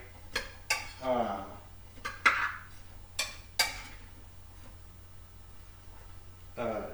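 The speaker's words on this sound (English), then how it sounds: "I'm going to stir it as I go" A spoon stirs chili in a crock pot as canned ingredients go in, giving a few sharp clinks and scrapes against the pot spaced over several seconds with quiet gaps between.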